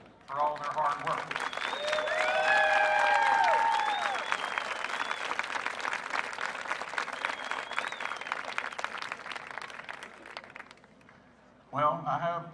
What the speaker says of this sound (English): give all these participants a quick round of applause for all their hard work